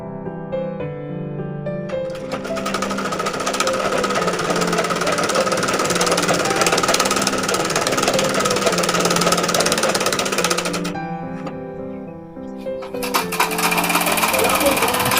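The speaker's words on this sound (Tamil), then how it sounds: "ஃப்ரெண்ட்ஸ், இதை வந்து நம்ம ஃபுல்லாக தைச்சாச்சு" A sewing machine stitches along a length of folded cloth in a fast, steady mechanical rattle that runs for several seconds, stops briefly, then starts again close by, with a voice talking faintly under it.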